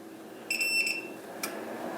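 A Mercury IIIs ham radio amplifier emits a short electronic beep as it powers on, a brief pulsing tone followed by a fainter click, fairly quiet over a low background hum.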